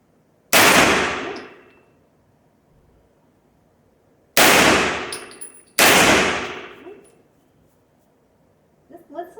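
Three sharp, loud gunshots from a smaller handgun at a shooting range, each ending in a decaying echo; the second and third come close together, with faint movement sounds between them.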